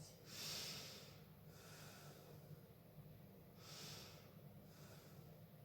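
Slow, deep breaths during a gentle meditative yoga session: two soft breathing swells, each drawn in and let out, faint and close with a slight nasal hiss.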